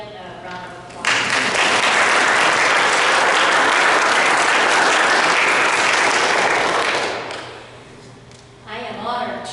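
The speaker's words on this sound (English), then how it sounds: "I think we need to give him a round of applause." Dense audience applause at an evening presentation swells suddenly, holds as a steady roar of clapping for several seconds, then fades, and a voice speaks afterward.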